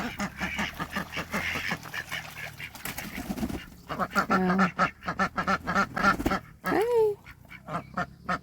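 Farm ducks, including mallards, quack in repeated nasal bursts close by, with someone briefly speaking to them.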